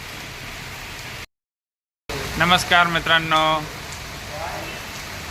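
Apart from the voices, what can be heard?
rain falling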